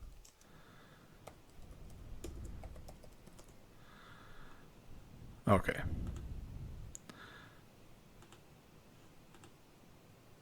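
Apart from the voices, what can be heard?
typing on a new laptop keyboard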